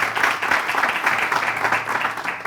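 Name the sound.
audience applause for the princess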